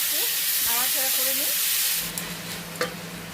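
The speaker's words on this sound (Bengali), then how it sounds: "এরপরে এই টমেটোগুলোকে দিয়ে দিচ্ছি" Tomatoes go into a hot pan and fry with a loud, even sizzle. A short voice-like murmur sounds early on, and the hiss eases and thins partway through with a couple of small knocks.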